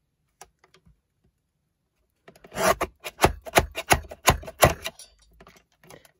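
After near silence, a paper guillotine chops through a stack of junk-journal paper in a quick series of sharp, crunching strokes, about eight in a row, close and loud.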